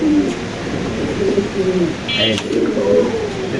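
Fancy pigeons cooing during courtship, a series of soft, low throaty coos repeating through the clip alongside other birds and a chirp, with a steady background murmur.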